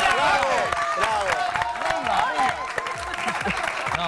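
Applause from a flamenco show audience fills the whole stretch, a dense steady patter of clapping with loud voices calling out over it.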